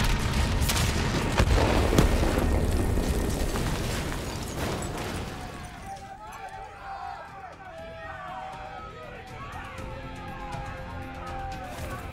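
A detonation in Call of Duty: Black Ops III rumbles loud and dense through the first half amid gunfire-like cracks, then fades into quieter mechanical game sounds with voices speaking.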